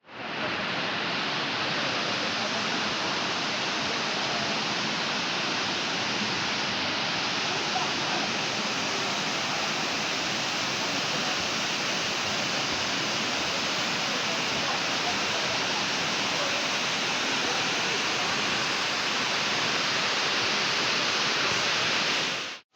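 Steady, loud roar of the Astara Dustaqxana waterfall, a continuous broadband rush of falling water filling the whole stretch without a break.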